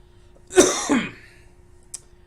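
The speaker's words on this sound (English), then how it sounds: "just a very small little bit of a cough" A single short, close cough in two quick bursts, followed by quiet and a faint click.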